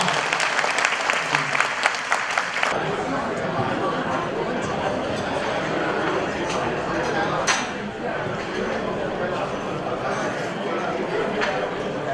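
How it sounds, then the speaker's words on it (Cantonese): Sustained applause from a crowd at a Taishan community fundraising event for Peter Liang, steady and dense for the whole stretch, with a few louder claps and voices at the start. "俾啲掌聲好嘛"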